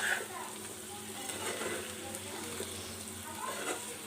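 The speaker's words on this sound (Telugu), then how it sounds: "ఫ్రై అవ్వనిద్దాం. ఫ్రై అవ్వాలి." Boiled eggs fry with salt and chili in a hot pan, giving a steady close sizzle that runs throughout at an even level, with faint stirring and scraping touches mixed in.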